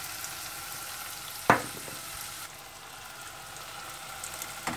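Spices such as cumin, black pepper and turmeric being stirred into tomato paste in a hot pot, a steady soft sizzle with one sharp scrape of the spoon partway through.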